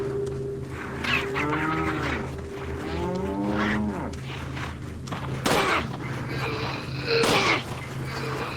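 Cows moo in the Resident Evil 4 VR video game, several long, drawn-out lowing calls one after another at moderate distance, with a few footsteps and sharp thuds between them.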